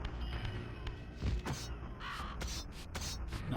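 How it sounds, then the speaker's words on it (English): Crow cawing in the Soul Reaver video game on Dreamcast, a couple of harsh caws over low game ambience with a dull thump. "Big funny bird!"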